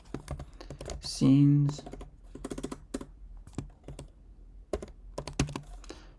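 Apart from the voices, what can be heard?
typing on a computer keyboard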